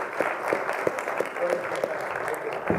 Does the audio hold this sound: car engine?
no